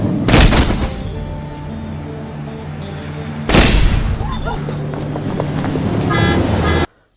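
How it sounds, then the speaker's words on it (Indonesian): Gunshots ring out in an action film shootout, two sharp loud bursts with echoing tails over a dense soundtrack of music and effects. "Castello langsung menembaki Fung dan anggotanya"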